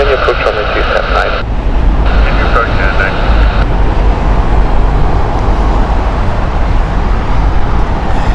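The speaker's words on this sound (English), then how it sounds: "787 Dreamliner in now. This is the Chicago flight." Boeing 787 Dreamliner landing at Heathrow Airport, a loud continuous jet roar close by with a radio voice over it at the start.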